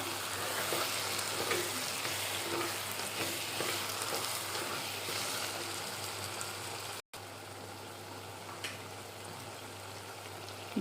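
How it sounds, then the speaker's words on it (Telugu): Spices and curry masala sizzling steadily in a hot pan for an Andhra-style egg and flat bean (chikkudukaya) curry, a dense continuous frying hiss broken by a brief dropout, with occasional stirring scrapes and no talking. "ఇవన్నీ వేసిన తర్వాత కూడా బాగా వేయించుకోవాలండి"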